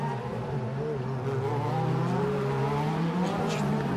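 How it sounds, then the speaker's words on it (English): A DTM race car brakes hard at the Norisring street circuit, its engine note dropping in pitch as it slows, with crowd and track ambience behind it. "Heavy braking."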